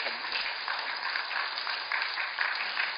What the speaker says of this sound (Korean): 힘내라고 박수 쳐주세요